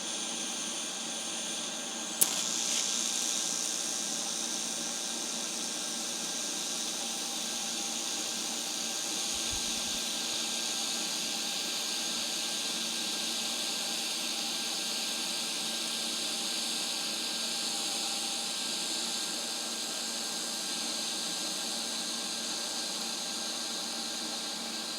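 Welding with a Harbor Freight Titanium Unlimited 200 MIG/TIG welder, a steady even hiss and buzz holding continuously after a sharp starting click, fairly faint and unbroken, with no talking.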